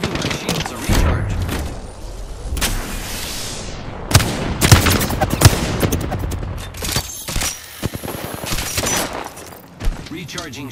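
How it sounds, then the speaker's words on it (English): Rapid gunfire bursts and sharp shots in an Apex Legends Arenas match, dense and loud across the whole stretch with a few heavier booming impacts, sometimes mixed with game voice lines. "They're shooting at me."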